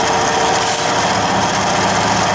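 A Bridgeport CNC knee-type vertical milling machine (V2XT, 3-axis) running a continuous program at full spindle speed and feed, giving a loud, steady, dense whir with constant high hiss and no pauses.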